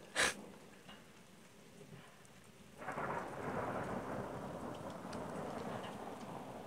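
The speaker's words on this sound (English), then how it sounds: "But it is thundering, and I love thunder." A thunderstorm at dusk, with a sharp crack of thunder at the start, then a quiet lull before steady rain and low rumbling swell in and hold at moderate, distant loudness.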